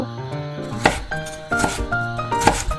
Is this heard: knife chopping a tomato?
yes